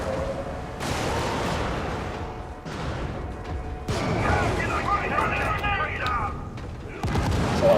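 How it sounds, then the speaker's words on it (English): Grenade explosions in a video game: several heavy booms in quick succession, loud and near, each blast followed by rumbling debris and crackle. "That's a lot of grenades."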